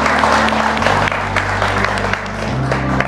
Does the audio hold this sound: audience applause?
yes